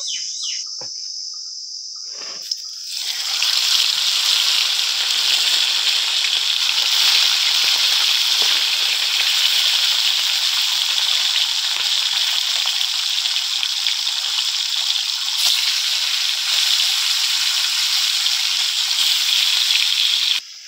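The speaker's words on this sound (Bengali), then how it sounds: "সেই জন্য দেখুন মাছগুলো এবার ভেজে নেব।" Tilapia fish pieces frying in hot oil, a loud, steady, dense crackle and hiss that bursts in after a brief pause and continues without letup.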